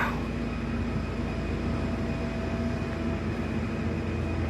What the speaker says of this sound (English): Sounds like there's trains everywhere,